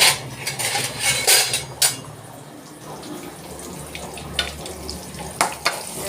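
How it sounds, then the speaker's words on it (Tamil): Chopped onions frying in a pan with a constant sizzle, broken by sharp scrapes and clinks of a spoon against the metal as they are stirred, close by and without talk. "ஆனியன் கொஞ்சம் கட் பண்ணி வச்சுருக்கேன் அதை போட்டுக்கிறேன் போட்டுட்டு இதை நல்லா ஃப்ரை பண்ணிக்கலாம்"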